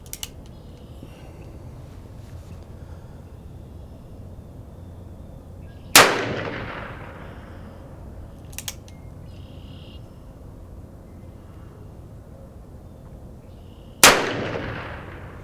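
A Ruger Vaquero revolver fires two sharp, loud shots about eight seconds apart outdoors, each with a quick ringing decay, over quiet background hiss and a faint click between them.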